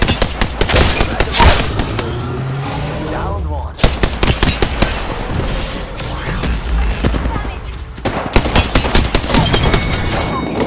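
Dense video-game gunfire: rapid bursts and volleys of shots crackle through nearly the whole stretch, with brief pauses and a couple of booming hits, loud and close, with a voice faintly audible underneath.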